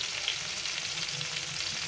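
Pointed gourds (potol) stuffed with meat fry in a covered pan, giving off a steady, close sizzling hiss with soft crackles that keeps going evenly without pause.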